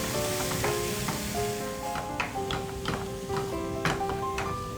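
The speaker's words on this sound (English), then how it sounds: "I'll add the onion paste and saute this on a medium flame for about 3 minutes" Onion paste sautéing over a medium flame in a pan for stuffed bitter gourd, a steady close sizzle with small crackles and faint ticking clinks throughout, no talk.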